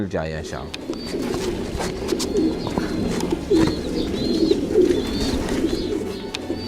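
A prize-winning long-distance racing pigeon, a female from Saudi Arabia, coos in repeated soft, throaty rolling phrases close by, with other birds chirping faintly and someone speaking briefly at the start.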